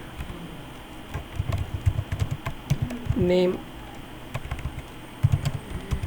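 Keys clack on a computer keyboard in irregular bursts of quick taps, close and fairly quiet, while a person speaks briefly in between.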